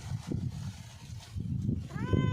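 A pet cat meows softly a few times amid faint indoor background noise, the cries short and plaintive, with a brief higher-pitched wail near the end.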